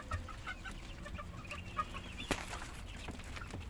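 White broiler chickens cluck and cackle in a farm coop, with scattered close calls and one sharp squawk over a low steady background.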